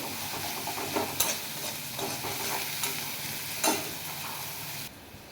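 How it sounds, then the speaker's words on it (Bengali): Onions sizzle steadily in a hot pan, with a few louder scraping stirs along the way before the sound suddenly drops away near the end. "ভালো করে পেঁয়াজটা ভেজে নিতে হবে।"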